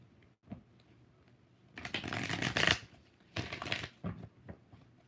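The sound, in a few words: shuffling tarot cards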